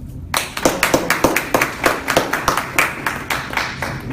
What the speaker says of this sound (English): Some of y'all clap like I'm gonna wait till I get my grade.